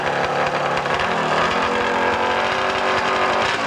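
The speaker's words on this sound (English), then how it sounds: "350cc Yamaha, air-cooled twin." A 350cc Yamaha air-cooled twin motorcycle at an AMA hillclimb in Monson, Massachusetts, roaring loud and steady at high revs throughout, close and dense with no pauses.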